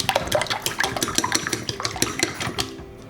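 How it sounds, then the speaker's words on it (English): Two eggs beaten in a bowl for a Japanese rolled omelette mixture, a quick run of close, rhythmic clinking and sloshing strokes with no voices. "Beat the eggs."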